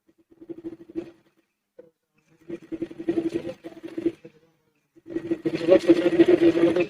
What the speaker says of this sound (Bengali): আমি সাদা সুতা দিয়ে সেলাই করতেছি